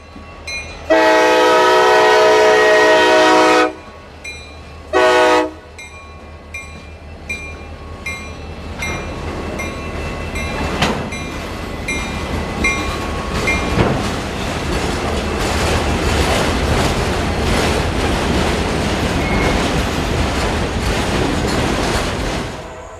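An autorack freight train led by a single SD40-2 locomotive, number 8214, in Central Florida between Winston and Tampa, sounds two loud horn blasts, one long and one short, then rolls past with steady clattering wheels and rumble.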